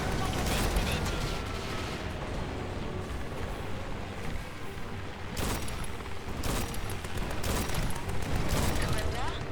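Enemy gunfire rattles through a battle in the war video game Grit & Valor 1949, while turrets are being attacked: dense, continuous combat noise with sharper bursts of shots near the end.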